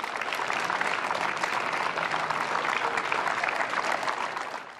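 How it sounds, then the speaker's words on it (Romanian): Sustained outdoor clapping from a national applause for Captain Tom, many hands beating together in a steady, even patter throughout, without speech. "Au aplaudat pentru capitanul Tom și medicii care l-au îngrijit până în ultima clipă."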